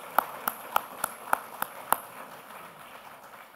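About seven crisp, evenly spaced claps ring out at an alumni awards luncheon ceremony, then fade into a quiet room murmur.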